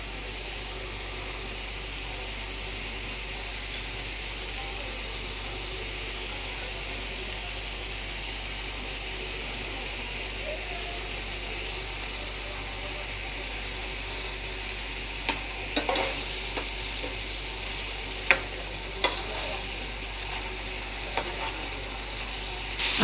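Eggs fry in a pan of green curry, giving a steady low sizzle and bubbling that continues throughout, with occasional scrapes and clinks of stirring toward the end and no talking.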